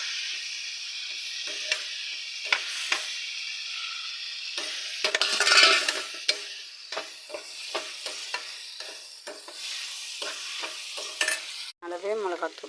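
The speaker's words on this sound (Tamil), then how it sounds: "நம்ம இப்போ கழுவி வச்சு கீரையை போட்டு கிண்டிக்கலாம்." Washed spinach greens with turmeric and salt are stirred in a hot pan, giving soft sizzling and scraping sounds with repeated spoon strokes, close and without talk.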